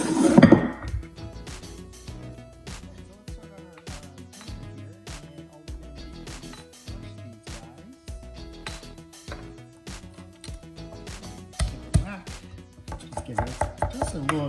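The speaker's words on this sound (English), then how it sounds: "Give it just a little chop real quick." A knife chops vegetables for kimchi on a cutting board in a rapid, steady rhythm of close, sharp knocks, with occasional heavier thuds near the end.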